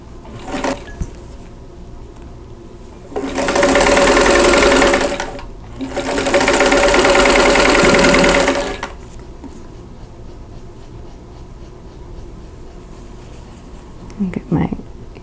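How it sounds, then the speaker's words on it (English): A sewing machine joins the rows of a Salem quilt block in two loud, steady bursts of whirring stitching with a brief gap between them, framed by quieter handling noises and some soft talk. "I'll sew all the rows together"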